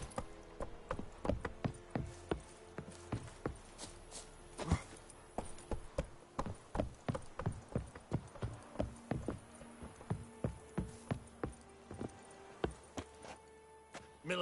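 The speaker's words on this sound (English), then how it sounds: "That's it, Roach" Horse hooves clip-clop at a steady walking rhythm in the video game The Witcher 3, a series of distinct, evenly spaced thuds close by, heard alone with faint ambience behind.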